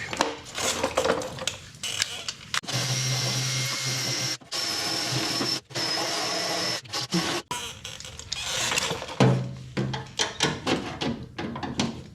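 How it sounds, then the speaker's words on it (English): A wire wheel scrubs bare metal on a '73 Chevy Nova under restoration, giving several loud, close bursts of harsh whirring grind with short pauses between them. "I need my wire wheel action again, and we'll get this cleaned up."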